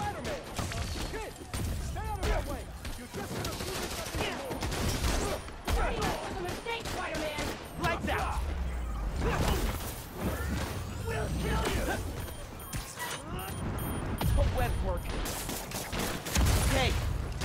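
Sustained suppressing gunfire in a Spider-Man video game battle, rattling bursts and crashes that run steadily throughout, mixed with in-game voices and effects.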